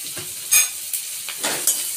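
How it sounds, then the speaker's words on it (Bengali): Black cumin seeds are tempered in hot oil, giving a short burst of close, bright sizzling with a few sharp scrapes and taps of a spoon in the pan. "এবার দেবো আমি কালো জিরে ফোড়ন।"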